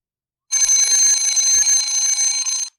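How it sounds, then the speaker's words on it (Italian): An alarm clock rings loudly and continuously for about two seconds, a bright buzzing bell that starts and stops abruptly. "Suona la sveglia."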